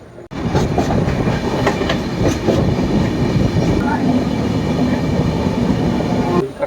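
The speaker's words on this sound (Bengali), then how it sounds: "এই মুহূর্তে আমাদের ট্রেন এসে দাঁড়ালো সাঁতরাগাছি" A Dhauli Express train rumbles loudly and continuously with rhythmic clatter of wheels on rails, occasional faint squeals, as it rolls into Santragachi station and slows.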